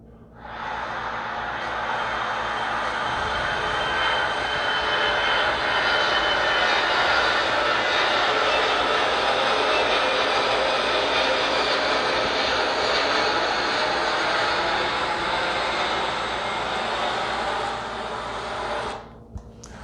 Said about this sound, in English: So Pastor Dwight, you want some jet noise?